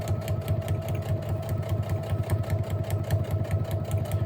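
A sewing machine stitches fabric for a handmade journal, running at a steady, fast, even rhythm of needle strokes over a low motor hum, close up and continuous, with no talking.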